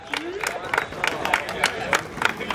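An outdoor crowd at a Tartu skate event claps and cheers for a skater, a burst of rhythmic applause and whoops with a voice talking over it.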